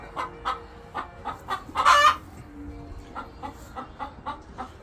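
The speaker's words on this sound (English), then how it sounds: "You're the chattiest bird." A talkative hen in a small chicken ranch coop clucks steadily in a quick, even rhythm at close range, breaking into one louder squawk partway through before settling back into soft clucks.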